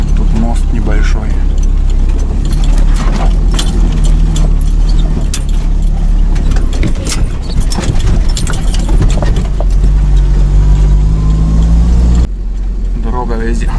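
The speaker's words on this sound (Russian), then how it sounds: "едем на первой и второй передаче" A car creeps slowly along a rough forest road in first and second gear, its low engine drone steady and close throughout, with bumps and knocks from the track and people talking over it.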